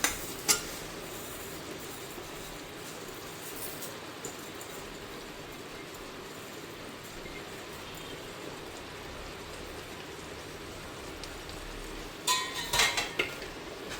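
Washed rice tipped into a pot of boiling chicken for biryani and stirred, heard as a faint steady bubbling hiss with a sharp clank near the start and a cluster of metal scraping and clatter near the end.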